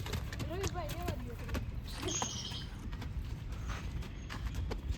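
Horse hooves clop in a steady, uneven rhythm on the ground nearby, mixed with background noise, bird chirps and a scraping sound, while people talk around the animal.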